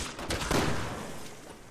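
Gunfire from the video game Resident Evil 6 sounds as a loud, close burst of shots that blur into a dense rattle and then trail off over under two seconds.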